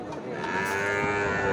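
Cattle moo in a long, low, continuous call at a busy livestock market, with crowd noise filling the background.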